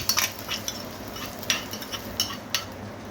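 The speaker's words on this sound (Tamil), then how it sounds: "கொஞ்சம் கருவேப்பிலை எல்லாம் போட்டு கிளறி விட்டுருங்க" Curry leaves stirred into a Kerala-style mochai kottai (field bean) kuzhambu, with a utensil clinking against the pot in irregular light taps over a faint background hiss, close and fairly quiet.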